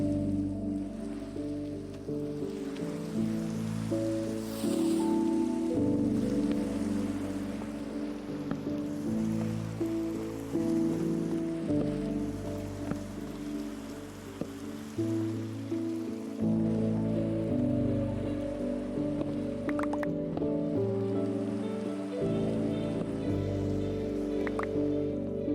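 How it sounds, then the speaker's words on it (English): Rain falling in the video game Minecraft, a continuous patter under a steady layered music-like drone, with no talk heard. "Oh, here comes the rain."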